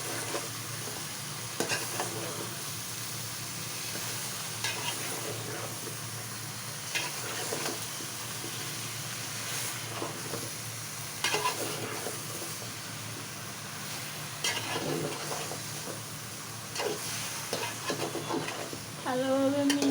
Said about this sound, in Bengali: লাউ দিয়ে দিয়েছি। এখন ভালোভাবে মশলার সাথে মিশিয়ে নেব।